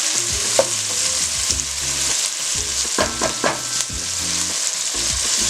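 Red peppers, onion and scallions frying in a pan give a constant close sizzle, broken by short scraping and tapping stirs.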